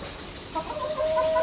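Chickens clucking as they are fed wheat, a few short close clucks and calls within a brief moment.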